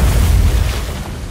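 A bomb goes off in The Witcher 3, a loud, deep rumbling boom that fills the moment and slowly fades, with no voices.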